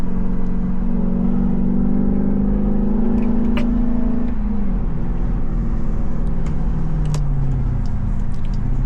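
A Jeep with a 5.7 Hemi V8 engine drives along, its loud deep exhaust drone steady and close, with the pitch sliding down as it eases off and shifts, plus a few faint clicks inside the cabin.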